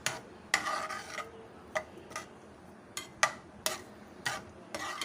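Chicken is being mixed with spices, including roasted ground cumin, in a bowl, producing a series of faint, scattered clinks and scrapes of a utensil against the dish at irregular intervals, with no talking.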